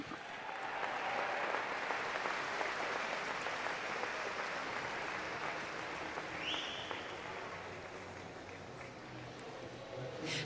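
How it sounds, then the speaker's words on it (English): A large crowd applauds steadily at an indoor swimming championship pool, a dense, sustained wash of clapping that swells early and then eases slightly across the clip, with no clear talk over it. "a big cheer for James Guy, our British champion"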